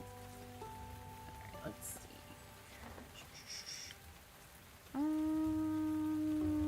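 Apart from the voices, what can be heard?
rain falling in a video game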